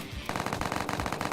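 Rapid gunfire from a video game sniper rifle, a close, loud burst of sharp repeated shots packed into about a second with no talking.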